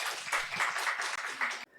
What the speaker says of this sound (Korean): 할렐루야, 우리 하나님 박수 올려드려요.